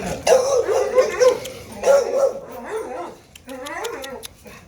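Dogs at a rehab center bark and yip close by in a few quick bursts, followed by softer whimpering sounds.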